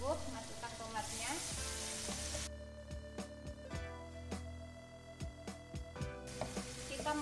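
Tomatoes stir-fried in hot oil in a pan while making sambal, with a steady sizzle broken by a series of sharp clacks and scrapes of a utensil against the pan, close and fairly loud.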